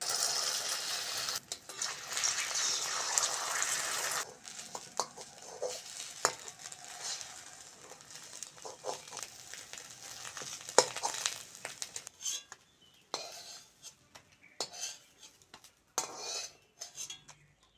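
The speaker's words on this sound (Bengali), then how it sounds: "তেল ভালোভাবে গরম হয়ে গেছে, ডিম দুটো ভেজে নেব।" Two eggs go into hot oil in a pan, giving a bright sizzle at first that settles into softer frying with clinks and scrapes of utensils against the pan.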